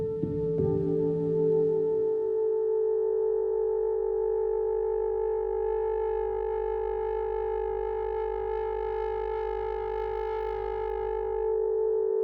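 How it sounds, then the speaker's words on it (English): Feedback loop building in an audio matrix modulation setup: a steady, loud synthetic tone whose harmonics thicken into growing distortion over about twelve seconds, with no voices. "we're essentially introducing a feedback loop here, and we're going to get an increasing amount of distortion"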